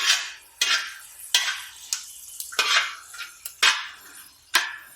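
Chicken curry ingredients sautéed in a large copper kadhai, a metal spoon scraping and clanking against the pan in repeated sharp strokes with a soft sizzle between them, close and without talk.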